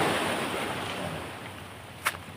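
Ocean waves surge against a coastal rock formation in Palawan, a steady rushing roar that slowly eases, with one brief sharp splash near the end and no talking.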